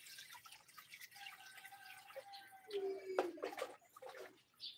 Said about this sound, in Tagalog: Lagyan niyo natin ang tubig, dahan-dahan.